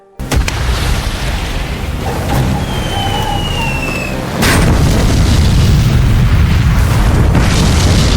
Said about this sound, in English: The hostages hide as best they can, but upon arriving, Tony's team is met with gunfire from Bang.